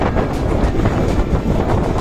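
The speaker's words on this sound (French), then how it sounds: "Il y a beaucoup de vent." Strong, steady wind ahead of a thunderstorm buffets the microphone with continuous low rumbling gusts, loud and unbroken throughout.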